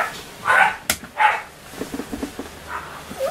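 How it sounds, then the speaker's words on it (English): Dogs in a flat downstairs bark in a quick, agitated burst of several loud yaps followed by a run of shorter, muffled barks, heard through the floor in an indoor workshop. "Maniac dogs downstairs, as you can hear."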